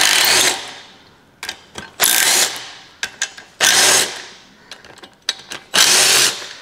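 Power tool spinning out the head bolts on a 1956 rototiller engine, several loud bursts of whirring rattle each about half a second long, separated by short clanks and quiet pauses.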